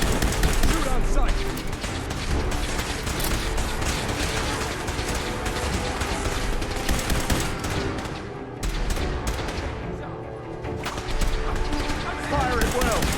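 Gunfire crackles through a Fallout 4 firefight, rapid overlapping shots and bursts forming a sustained fusillade that briefly thins out before picking up again, with voices mixed into the din.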